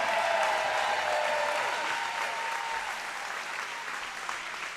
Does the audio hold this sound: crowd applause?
yes